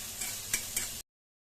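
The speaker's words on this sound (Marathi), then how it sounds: "तेलावर चिरलेला कांदा घालायचा। कांदा चांगला परतून घ्यायचा आहे।" Chopped onion sizzles briskly in a little hot oil, a steady close frying hiss broken by two or three short stirring scrapes before it cuts off abruptly.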